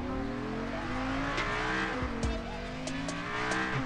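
A car drifts in the mobile game Drift Max Pro, its engine droning steadily while tires squeal in long, wavering tones with a few short clicks on top, moderately loud throughout.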